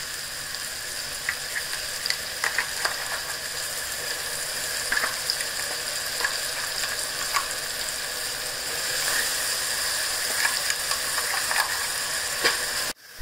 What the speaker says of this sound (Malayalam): ആ സമയത്ത് നമുക്ക് നമ്മുടെ വെളുത്തുള്ളി ഇഞ്ചി പച്ചമുളകിൻ്റെ പേസ്റ്റ് ചേർക്കാം.